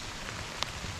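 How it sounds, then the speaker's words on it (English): Steady rain falls during a Pennsylvania archery hunt, a continuous broadband hiss of drops pattering on surfaces with one brief sharper drip tap, with no voices. "Well, as you can hear, rain's picked up and it's been steady now for about 20 minutes."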